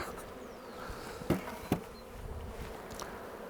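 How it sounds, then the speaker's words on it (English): Honey bees buzz at a hive during spring cleaning as they are tapped off a brood box floor, a faint, steady drone with two sharp knocks in the middle. "tap the bees off the floor into the front of the hive"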